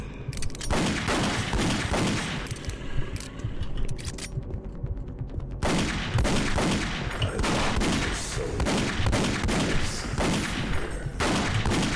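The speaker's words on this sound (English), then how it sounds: "Got myself a trusty chain gun." Sustained rapid chain gun fire from Doom 3, a dense continuous barrage of shots with mechanical clatter and a brief break partway through, loud and up close with no talking.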